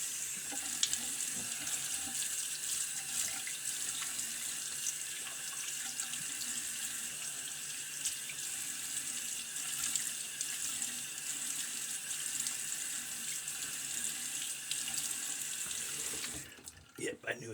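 A bathroom tap runs steadily to rinse a vintage 1911 single-edge safety razor, a continuous close hiss of water that stops abruptly near the end with a brief clatter.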